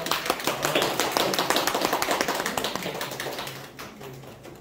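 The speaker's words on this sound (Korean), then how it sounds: "박수 한번 주세요." An audience at an art exhibition closing party applauds. The clapping is dense and rapid and nearby, holds steady, then thins out and fades toward the end.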